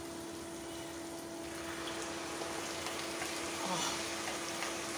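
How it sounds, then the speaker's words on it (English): Chicken stock poured into a pot of frying seasoned rice gives a steady, close sizzle and hiss under a faint background hum, with a slight surge of bubbling toward the end and no talk. "Then we're gonna pour in our stock, our chicken stock."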